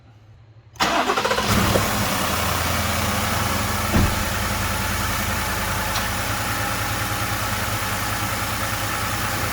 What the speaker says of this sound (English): I'm gonna start it up and shut it off after a little bit of running